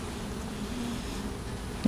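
Honey bees buzz steadily at a packed, bearding hive, a continuous low drone close by with a brief louder flick near the end.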